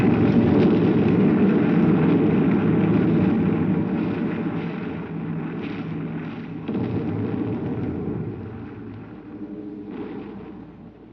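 WWII Luftwaffe bombers over London during a May 1941 air raid, as staged in a radio drama: a loud, dense rumbling drone that slowly fades, with a few dull thuds and bursts, no voices.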